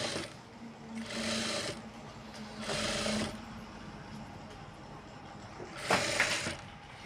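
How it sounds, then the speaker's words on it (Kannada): A sewing machine in a tailoring shop stitches a blouse in three steady whirring bursts of about a second each, separated by short pauses, fairly close in a quiet room with no speech. "ಸ್ಟಿಚಿಂಗ್ ಮಾಡ್ತಾ ಇದ್ದಾರೆ ಬ್ಲೌಸ್ ಡಿಸೈನಲ್ಲೇ ಮಾಡ್ತಾ ಇದ್ದಾರೆ ಇಲ್ಲಿ"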